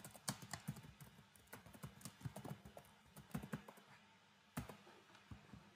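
Computer keyboard keys typed in quick, irregular bursts while entering a name and route into a Laravel 8 admin project, with crisp close clicks and brief pauses between runs.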